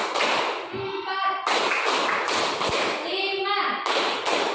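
A group of kids in class claps hands together in repeated rhythmic bursts, close and loud, overlapping with children's voices chanting in chorus.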